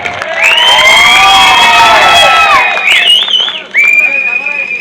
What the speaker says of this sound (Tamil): உண்மையிலே பாலமேடு பப்புளுக்கு ஒரு கைதட்டு கொடுக்கலாம் எல்லாருமே